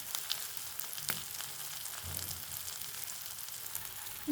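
Eggs coated in masala fry gently in a pan over a low flame, giving a soft, steady sizzle with a faint scrape or two, quiet and alone without talk.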